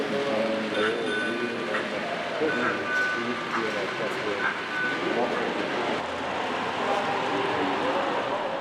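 A model freight train rumbles steadily along a track with a continuous rattling whir and faint clicks, close by, under narration.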